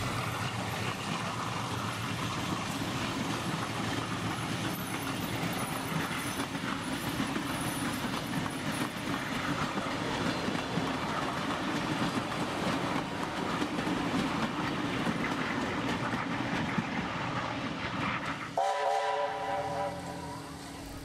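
Steam locomotives 44211 and 3526 run steadily along the Thirlmere bank in New South Wales. The engines and rolling stock make a continuous clatter for the whole length, and a whistle sounds near the end.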